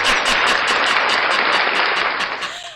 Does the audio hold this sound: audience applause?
yes